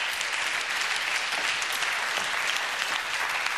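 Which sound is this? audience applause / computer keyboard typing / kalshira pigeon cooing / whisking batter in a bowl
audience applause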